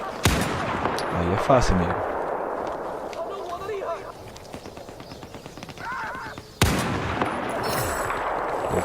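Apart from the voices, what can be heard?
gunfire in video game Battlefield 4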